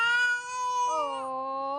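A cat gives a long, drawn-out meow with a slight pitch bend partway through, loud and close, with no one talking over it.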